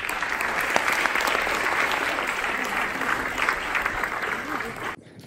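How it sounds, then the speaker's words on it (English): Steady audience applause at a video marketing master class as a guest speaker comes to the stage, sustained for several seconds before cutting off near the end. "Let's give him a round of applause."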